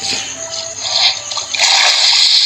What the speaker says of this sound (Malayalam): വെള്ളത്തിൽ വീണ്